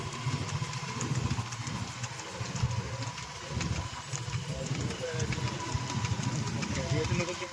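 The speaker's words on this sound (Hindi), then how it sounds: "आगे भी मोटरसाइकिल है, पीछे मोटरसाइकिल है, बहुत आदमी है।" Motorcycles idle in a slow-moving procession, with the engines throbbing steadily and close by under loud, continuous crowd talk and shouting.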